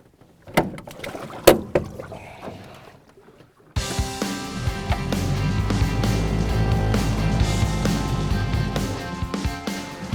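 An aluminium boat on a lake: a few knocks and bumps against the hull, then from about four seconds a steady loud engine drone with broadband water rush carrying on to the end.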